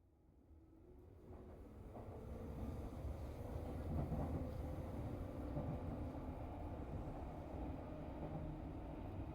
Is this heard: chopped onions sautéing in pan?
no